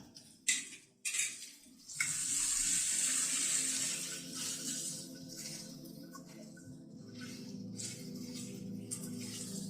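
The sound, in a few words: ginger paste being fried and stirred in a pan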